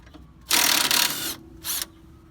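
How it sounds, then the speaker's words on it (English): Impact gun spinning off a sway bar end link nut on a BMW F10 during a coilover install, one long loud burst of about a second, then a short second burst, with quiet workshop pauses around them. "Now it's time to finish gunning off the sway bar end link."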